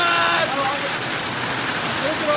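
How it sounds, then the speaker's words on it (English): Hail pouring down on an Appalachian Trail shelter, a dense, constant hiss and patter drumming on the roof, steady and fairly loud throughout. "Look at all the hail."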